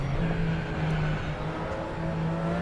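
A race car driving over a dune in a racing simulation video game, a steady, close engine drone that wavers slightly in pitch as the car crosses the sand.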